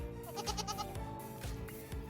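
Goats bleating nearby in a short burst of several wavering, nasal calls in quick succession, with no talking.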